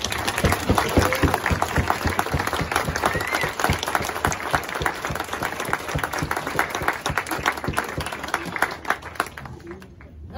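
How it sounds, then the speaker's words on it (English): Wedding guests clapping hands in a lively, uneven burst of applause, close and fairly loud, with chatter under it, thinning out and stopping near the end. "I'm just trying to get you to clap your hands and say, well"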